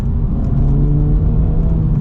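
The engine of a new Acura Integra Type S hums steadily and loudly up close, a smooth sustained drone with a slight rise in revs as it rev-matches on a downshift, no voices.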